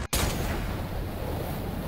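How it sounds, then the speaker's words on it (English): A small explosion in the Free Fire battle royale game: a sharp burst at the start followed by a broad, noisy rumbling decay that fills the rest of the moment at moderate loudness. "Jump where that little explosion just happened"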